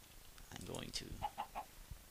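A blocky chicken in the Minecraft video game gives a few short, soft clucks in a quick series. A brief rustle comes first, and the scene is otherwise quiet.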